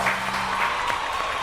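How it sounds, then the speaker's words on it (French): Studio audience applauds finalists on a televised game show, a steady wash of clapping filling the whole moment at moderate loudness with no voices over it. "on vous applaudit bien fort"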